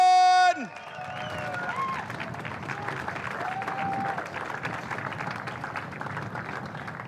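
A crowd applauds the race winner at a podium celebration of the Repco NextGen NZ Championship, steady clapping and cheering heard from a distance after a brief tone at the start, with a voice talking over it.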